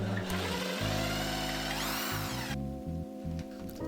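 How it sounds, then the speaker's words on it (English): A power tool whines loudly and steadily, its motor pitch shifting, then cuts to a lower stuttering grind in short bursts. "I marked out the center of the wood and started drilling."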